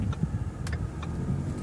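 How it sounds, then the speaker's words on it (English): A 2015 Ford Mustang engine idles and rumbles steadily nearby, with a few sharper mechanical ticks and clicks over the low drone. "Listen to that engine roar though"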